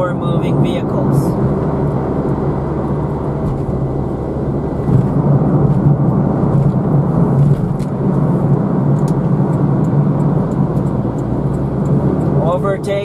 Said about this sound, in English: You can see these vehicles on the right side are overtaking me at the moment.